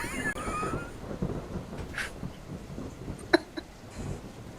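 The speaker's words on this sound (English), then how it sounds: "It is raining." Rain falling outdoors beside a ravine, a faint diffuse patter under rustling and a few sharp knocks, with no one speaking.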